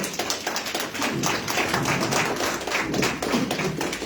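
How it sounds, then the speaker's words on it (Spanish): Church congregation clapping in a steady, dense wash of many hands, loud and continuous throughout with a faint rhythmic pulse and no talk over it. "Aplaudan al Señor"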